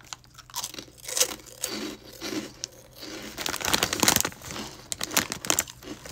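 Monster Munch pickled onion corn snacks crunch loudly in a mouth at close range, with bursts of chewing and bag crinkling coming in irregular clusters.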